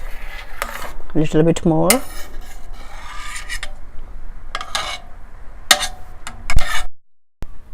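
A metal spoon scrapes and clinks against a pot while skimming froth off boiling yellow lentil soup. The scraping comes in brief close rasps and taps with pauses between them, and a person speaks briefly.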